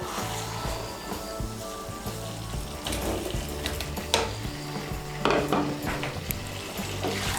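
Fried pumpkin pieces are stirred into spice paste in a pan, giving a soft, steady sizzle with intermittent scraping and clanks of the spatula against the pan.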